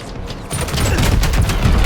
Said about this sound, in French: Gaffe au canon anti-aérien.